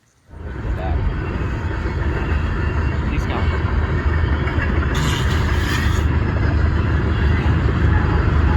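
An empty coal train rolls past in the Nebraska countryside, a steady, loud rumble of wheels and cars that holds constant throughout with no talking.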